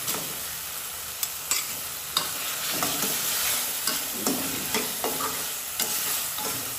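Small baim (spiny eel) fish frying in a cooked-down spice paste for a bhuna, with a steady sizzle and intermittent scraping strokes of a spoon stirring in the pan.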